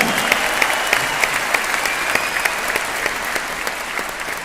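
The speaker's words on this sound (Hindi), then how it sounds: "तो सबसे पहले मैं एक बार जोरदार तालियां चाहता हूं उन लीडर्स के लिए" A large audience at a celebration event for leaders of a direct-selling company claps loudly and steadily, with sharper individual claps popping out of the dense sustained applause.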